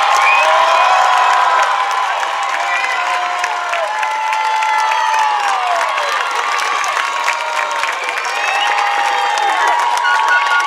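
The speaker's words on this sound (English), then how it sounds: "Can we get a round of applause for both?" A large crowd cheers and whoops at a high school graduation ceremony, a dense, sustained wash of voices filling the whole stretch at steady volume, with no distinct individual claps standing out from the cheering.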